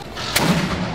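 A ceremonial cannon fires once in public with a single sharp, loud blast, followed by a brief rumbling decay.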